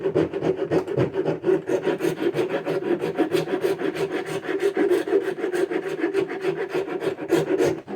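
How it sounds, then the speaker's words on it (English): A hobby wood rasp files a piece of pine with fast, rhythmic scraping strokes, close and loud, repeating steadily for the whole stretch with no talking. "You just work the rasp to bring the wood down."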